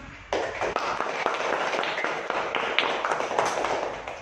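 An audience at a teacher training session at IAIN Palangka Raya breaks into sustained applause, many hands clapping densely and steadily at close range for several seconds after a brief quiet start.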